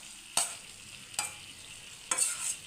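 Paneer pieces dropped and stirred into a simmering gravy, three distinct spoon scrapes and clatters over a soft background sizzle, close and fairly quiet.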